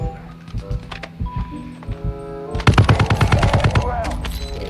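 Rapid automatic gunfire from the mobile shooter Call of Duty Warzone Mobile erupts in dense, loud bursts halfway through, following quieter scattered shots and game sounds at the start.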